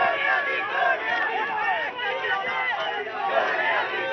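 Crowd of supporters at a political rally in Pakistan shouting slogans together, a loud, dense mass of chanting voices that rises and falls in waves without pause.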